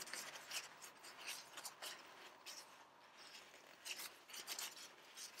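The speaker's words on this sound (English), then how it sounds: "just wipe all the excess off, because we don't want any of that mucking up the works" Soft rubbing and rasping strokes come from excess sealant being wiped off an air hose quick coupler, faint and close with uneven repeated swipes.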